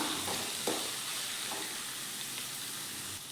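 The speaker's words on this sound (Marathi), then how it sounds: "मग अशी आपली 1-2 मिनटं ही डाळ अशी थोडीशी तेलामध्ये फ्राय करायची" Dal fries in oil in a pan for a spinach dry curry, giving a steady close hiss and sizzle with a few soft stirring scrapes and no talk.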